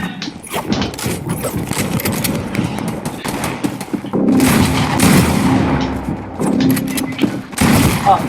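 Video game gunfire rattles in dense bursts over continuous game audio, with louder, fuller volleys in the second half and a person talking now and then.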